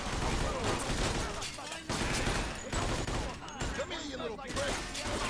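Gangsters open fire in Mafia II with dense, rapid gunshots that rattle on continuously, loud and close, layered with crackling impacts throughout.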